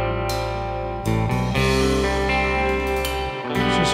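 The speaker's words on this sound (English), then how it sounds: "Bass guitar." Bass guitar plays open, sustained low notes that build steadily, with a couple of sharp changes between notes and a dense, loud full-band texture throughout.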